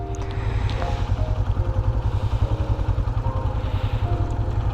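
A Suzuki GS motorcycle loaded with luggage for a road trip toward Bela throbs with a steady, close, pulsing engine note under rushing wind, running unbroken for several seconds.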